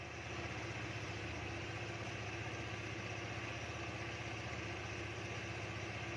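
A 2010 Honda Air Blade scooter engine idles steadily and close by, a constant even putter with no change in pace and no talking, from a scooter checked for a high-voltage ignition fault.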